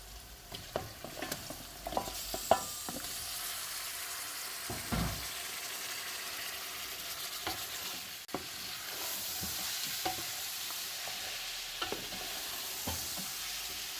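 About 1.5 kg of chicken fries with cumin in a pot, giving a continuous crackling sizzle interrupted by scattered stirring knocks and clinks, close and moderately loud.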